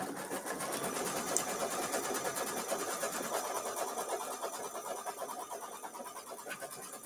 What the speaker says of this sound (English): Stitching outside of the batting.